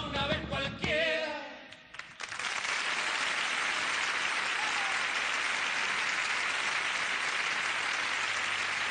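A studio audience on the Martes 13 television show applauds a folk group, starting as the music ends and building into sustained, even clapping that fills the rest of the clip.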